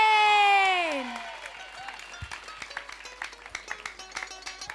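A studio audience applauds a band on a television show: a falling synth tone fades out at first, then scattered, uneven claps continue at moderate volume.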